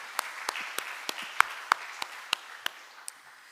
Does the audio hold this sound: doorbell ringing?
no